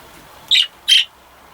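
Cockatiels and budgerigars in an aviary give two short, bright squawking calls spaced about a third of a second apart. The calls are fairly loud and close, with near silence around them.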